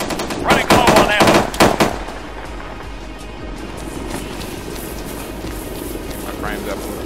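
Automatic gunfire bursts in the military shooter ArmA 3, loud rapid volleys in the first two seconds, then a steady hum of background noise with faint distant activity.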